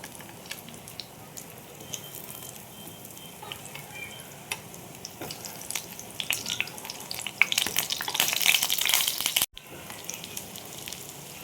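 Gram-flour-battered pumpkin slices fry in hot oil with a continuous crackling sizzle that swells louder toward the end, then cuts off sharply for a moment before resuming quietly, with no voices.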